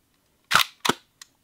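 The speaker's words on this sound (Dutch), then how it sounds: "Dus dat is echt een volledig mechanisch gebeuren met een veertje dat opgespannen wordt en dan de juiste tijd bepaalt." A purely mechanical, spring-driven Hasselblad lens shutter fires at 1/250 second, giving two crisp, close clacks in quick succession and a small tick just after, in otherwise quiet surroundings.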